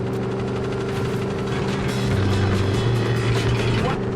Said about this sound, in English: Now launch the car off the jetty.